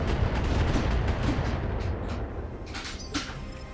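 BattleTech mech launching long range missiles, a rapid ripple of launch thumps and booming impacts that roll together into a dense barrage, loud at first and tapering slightly toward the end.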